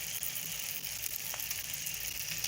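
Chicken liver and heart fry in a pan for a dhaba-style masala, a continuous, even sizzle and crackle at close range with a couple of faint pops, no voices.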